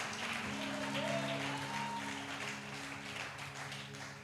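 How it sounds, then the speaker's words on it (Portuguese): A church congregation applauds during a sermon, fairly quiet clapping spread across the room, with a sustained organ or keyboard chord humming underneath. "Dê um aplauso ao nome de Jesus"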